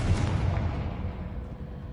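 A Confringo explosive spell cast in the Hogwarts Legacy video game lands as a single deep, booming blast with a rumbling tail that fades over about two seconds, heard alone.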